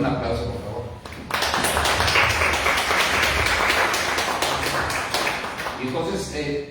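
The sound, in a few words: applause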